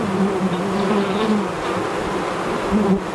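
Honey bees buzzing around an open hive with a queen, a dense continuous hum close by, steady and fairly loud with no voices.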